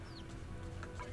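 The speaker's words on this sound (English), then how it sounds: "I keep hearing a bird chirping in the game" Bird chirps inside the video game Zenless Zone Zero, a few short, high, thin calls scattered over a steady, dense background of in-game ambience.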